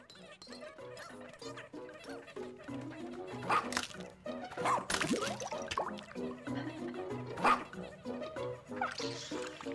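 Ochi, the rescue dog from the Pikmin 4 video game, gives repeated yips and barks, bright and close, scattered over a rhythmic game soundtrack with chimes and effects.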